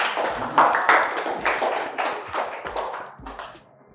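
Scattered clapping for a student receiving a gift in class, a handful of uneven nearby claps and taps that thin out and fade toward the end.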